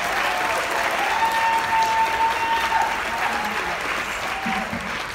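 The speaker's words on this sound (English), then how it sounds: "You guys, please give a round of applause to the Fashion Icon Award winner, Miss Alpha Blackburn." Sustained audience applause at an awards ceremony, steady clapping from a large crowd holding loud and even for several seconds.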